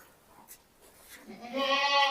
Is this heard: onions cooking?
no